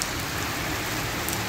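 Steady rain falls outdoors as a dense, even hiss with pattering drops, constant and unbroken throughout, with no voices.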